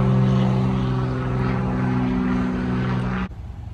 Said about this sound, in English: Let's wait for this airplane,